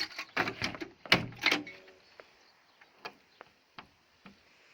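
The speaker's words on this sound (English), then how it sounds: "I'll just shut the door." A door clunks shut with a few sharp knocks and rattles, followed by scattered faint clicks as it settles.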